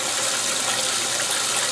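Water pours steadily into the drum of a GE Infusor Model GTWN5050M0WS high-efficiency top-load washer as it fills, a constant broadband rush that stays even and close throughout.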